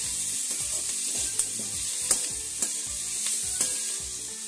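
Onion and tomato sautéing in an oiled pan for mushroom gravy, a close steady sizzle broken by a rhythmic series of stirring scrapes and light clicks from the spoon.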